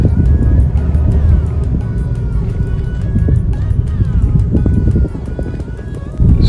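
Hyundai i20 car being driven on a road test, steady low engine and road rumble with wind noise throughout, a brief dip near the end.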